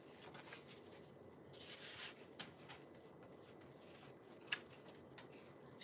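Real craft scissors slice through two sheets of paper in slow motion, giving soft, drawn-out rubbing and snipping sounds close up, with one sharp click near the end and no talking.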